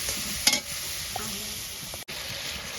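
Tomato puree fries with soaked ground spices in a pan for a fish-head and jackfruit curry, a steady close sizzle with one sharp clink of a spoon near the start.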